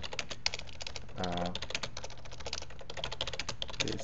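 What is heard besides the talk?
typing on a computer keyboard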